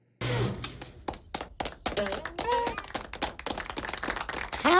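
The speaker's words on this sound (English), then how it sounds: "How are we clapping?" Clapping from a VeggieTales cartoon episode, a fast run of sharp, uneven claps and slaps mixed with voices and musical sounds from the show.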